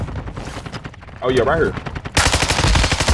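Automatic gunfire from a battle royale video game, rapid bursts rattling loudly through most of the stretch and peaking near the end, with a player talking over it.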